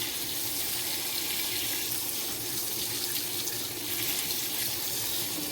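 Water runs steadily from a tap in a constant hissing splash to soak a very dry English ivy plant, close and continuous with no talk.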